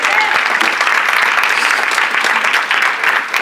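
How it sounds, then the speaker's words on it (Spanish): A church congregation breaks into loud, sustained applause, a dense, steady wash of many clapping hands filling the room throughout. "Si aprendiste algo, un aplauso"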